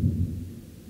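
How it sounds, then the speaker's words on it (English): Thunder from a thunderstorm during a power outage gives a single low, muffled rumble that swells briefly and then fades away. "I don't know if you could hear that thunder."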